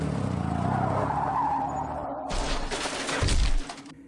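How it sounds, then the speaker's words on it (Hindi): A car skids with a sharp tyre squeal, then slams hard into an iron frame, a loud broadband crash with a heavy low thud near the end before it cuts off. "आगे उनकी गाड़ी किसी लोहे की चौखट से जोर से टकराई"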